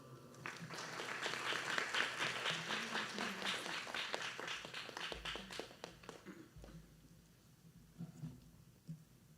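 Warm audience applause at a Bharatanatyam arangetram fills the hall, a dense wash of clapping that swells early, then gradually thins and fades toward the end.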